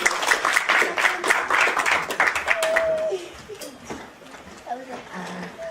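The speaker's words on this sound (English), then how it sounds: "A round of applause." Audience applause at a Commonwealth for Africa community event in Teesside, a dense burst of clapping that fades after about three seconds into room murmur and a few voices.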